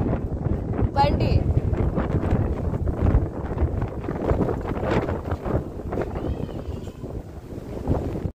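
A strong gusty storm wind blows outdoors around huts, roaring and buffeting the microphone continuously while people talk over it.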